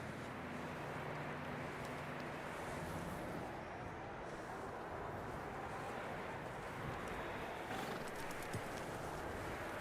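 Horses walk with a steady clip-clop of hooves over dirt in the Western open-world video game Red Dead Redemption 2, the hoofbeats continuous and moderately close under broad wind and ambient noise, with no talking.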